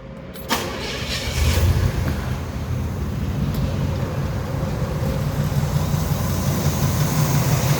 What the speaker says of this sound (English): let me give him a little gas